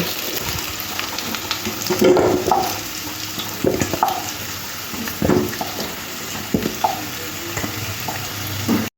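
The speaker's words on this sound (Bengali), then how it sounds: "আলু আর কচুটা এরকম লাল করে ভেজে নিতে হবে" Potato and taro (kochu) chunks frying in oil until reddened, a steady bright sizzle close by, punctuated by stirring knocks and scrapes against the pan, with no talking.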